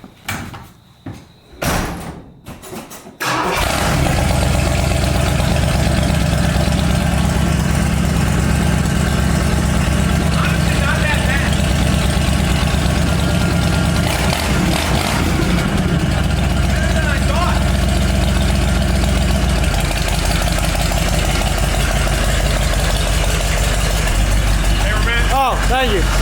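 A $2000 Cadillac fitted with fender-exit exhaust starts after a few door and handling clunks, then settles into a steady, loud, deep idle close by.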